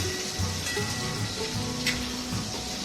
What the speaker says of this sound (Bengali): মানে মিডিয়ামভাবে ভাজতে হয় এটাকে